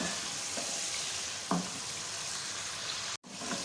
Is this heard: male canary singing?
no